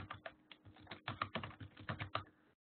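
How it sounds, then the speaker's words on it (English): Close, quick typing of an email address on a computer keyboard, a brisk run of about a dozen and a half crisp key clicks over roughly two and a half seconds, then silence. "I'll type my email on the screen now."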